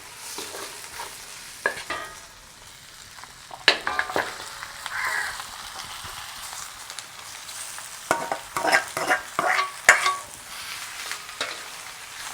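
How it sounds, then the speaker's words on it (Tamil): Pieces of mutton fry in hot oil in a pan, a soft steady sizzle broken by scraping, clattering stirring strokes in bursts, close and fairly quiet. "இப்போ வந்து நாங்கள் ஆட்டிறைச்சியை கொட்டிக்கொள்வோம்."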